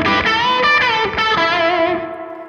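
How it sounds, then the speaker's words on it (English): Electric guitar playing palm-muted double stops from a rock solo with a distorted, effects-laden tone, a steady run of chunky paired notes played alone, fading slightly at the end. "Lots of double stops, palm muted still"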